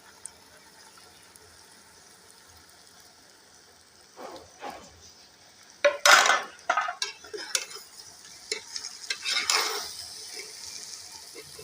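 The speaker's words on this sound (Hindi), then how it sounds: "तो अब हम इसमें ये जो हमने फ्राई की हुई भिंडी थी ये हम इसमें ऐड कर देंगे।" Fried okra tipped into sizzling Punjabi-style bhindi masala and stirred, with scattered scraping and clattering of a spoon against the pan over a faint background sizzle.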